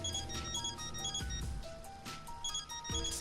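A phone in the video game Death End Request rings with a bright, repeating electronic melody of beeping tones, loud and close over a soft background.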